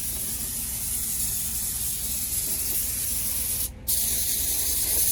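A loud, continuous pressurized oil spray greasing a concrete mixer drum hisses steadily, broken by one brief pause before resuming.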